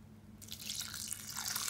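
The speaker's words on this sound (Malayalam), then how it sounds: "അത്യാവശ്യം ചൂടുള്ള വെള്ളം ഒഴിച്ചു കൊടുക്കുക" Hot water poured from above into a vessel of soaking rice, a steady splashing pour that starts abruptly and runs on continuously, close and moderately loud, with no voices.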